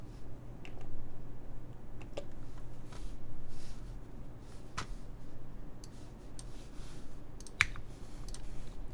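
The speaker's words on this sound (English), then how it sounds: "If you wanted to listen to the typing" Keys on a QK Neo60 Cu mechanical keyboard with GMK keycaps clack in quick irregular bursts, light and close, with short pauses between strokes.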